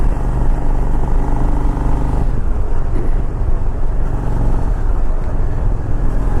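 A 2003 Honda Shadow 750 American Classic Edition motorcycle being ridden on a cold day, its engine rumbling loud and close with a steady low drone that eases off partway through.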